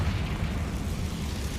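Blast from a Confringo spell in Hogwarts Legacy, a deep rumbling fiery explosion that fills the short moment with heavy low-end roar, loud and close with no voices over it.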